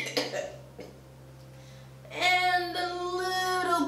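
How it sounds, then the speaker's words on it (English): A cartoon character gives a couple of short, sharp coughs, then a brief quiet gap before a high, tonal sung or spoken voice takes over the rest of the moment. "And a little bit of a cough."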